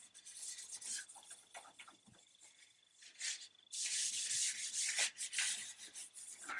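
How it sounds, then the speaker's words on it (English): An oiled wooden gun stock being rubbed down before a second coat, with close, gritty sanding strokes that start light and grow into a louder, sustained rubbing, with no voices. "Firstly, just going to give it a rub down, take any bits off that's not soaked in"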